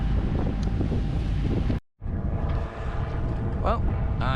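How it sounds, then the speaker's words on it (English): Strong wind roars and buffets a microphone at English Bay in Vancouver at sunrise, a dense, rumbling gust noise with a brief dropout midway and faint higher tones near the end; no one speaks. "Wind's too hard in the wrong direction"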